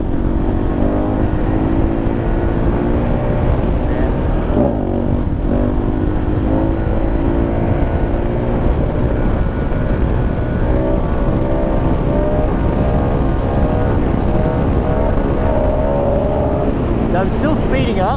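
KTM 690 motorcycle accelerating hard through the gears out in the desert, with a loud, close engine note rising in pitch with each gear under constant wind roar, and one brief dip near five seconds.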